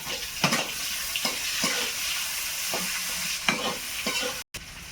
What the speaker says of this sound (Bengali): শুকনো লঙ্কা তেজপাতা এবারে পেঁয়াজ কুচুটা দেবো